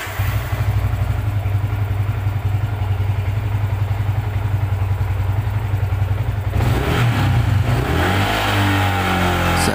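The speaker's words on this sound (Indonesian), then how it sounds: "Saat digeber di RPM tinggi," Yamaha Vixion motorcycle engine held at high revs, a loud, steady, buzzing roar close by that runs for several seconds before dropping back and fluttering down toward idle, with no voices.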